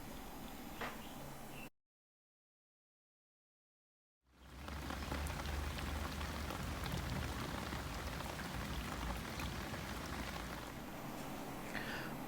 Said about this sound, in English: One day it rained, and it rained, and it rained.